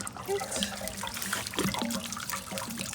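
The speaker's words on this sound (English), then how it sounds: "we drain the water heater" Water drains steadily from an RV water heater during winterizing, a continuous low trickling and splashing that stays at an even level throughout, with faint background noise and no clear talking.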